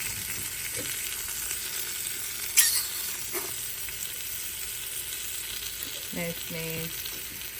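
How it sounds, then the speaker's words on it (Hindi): Onions sizzle and fry in avocado oil in a pan, a steady crackling hiss with a few clinks of a utensil and a brief spoken remark. "तो उसके बाद हमने करना है प्याज को फ्राई।"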